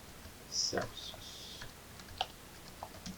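Typing code on a computer keyboard, a few quiet close keystroke clicks in short bursts, with a voice speaking faintly alongside.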